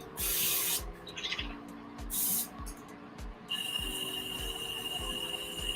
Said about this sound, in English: it just collects all my spray from here of my cleaner, so I'm not just spraying it into the air